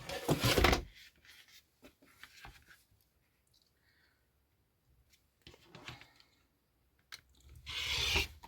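Scissors or a rotary cutter slice through quilting fabric along a drawn line in short, soft rasping strokes, close and quiet, with pauses between the cuts.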